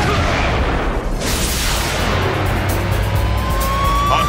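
Loud, sustained weapon barrage in a Transformers cartoon battle, a dense wash of blasts and rumbling fire running steadily throughout, with a sweeping whine rising near the end.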